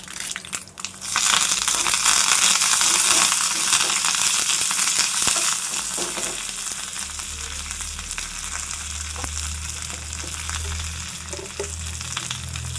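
Curry leaves hitting hot tempering oil alongside cut dried red chillies for an ivy gourd and tomato chutney: a loud burst of sizzling and crackling that settles into a steady, slightly quieter frying hiss, with no voices.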